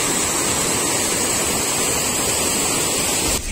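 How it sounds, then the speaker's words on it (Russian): A powerful torrent of water roars steadily near the Norwegian glaciers, a loud, dense rushing noise close by with no pauses. "Такой поток воды сумасшедший."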